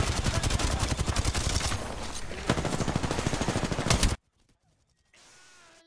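Rapid automatic gunfire in Apex Legends on Kings Canyon at night: loud, steady bursts of closely spaced shots for about four seconds, then an abrupt cut to near silence before a faint hiss returns.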